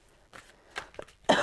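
A person with a cold gives a few small throat sounds, then one sharp, fairly close cough bursts out at the end of a short quiet stretch.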